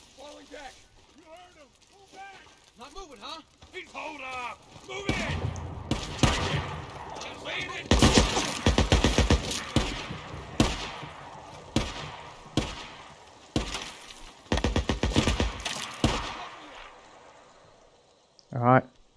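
Gunfire in the game Days Gone during a camp ambush, loud repeated shots and bursts in clusters, with someone talking early on over the action.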